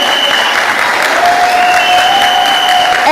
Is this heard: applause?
yes